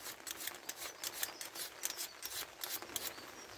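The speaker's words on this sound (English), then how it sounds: "So we can just sharpen these scissors" Garden scissors are sharpened outdoors on an allotment with quick, rhythmic rasping strokes, close and fairly quiet, with no voices.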